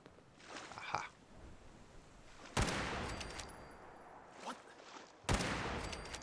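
Gunfire in Fallout 4 while playing modded survival mode: sharp broadband gunshots ring out, two loud reports with lingering tails plus fainter distant shots between them.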